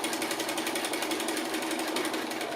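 A sewing machine stitches applique lines, running in a steady, fast, even rhythm throughout, close and continuous with no talk.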